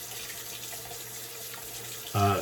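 Cold tap water runs steadily into a sink for a rinse after a wet shave, a constant close hiss that swells into a louder, fuller gush in the final moments.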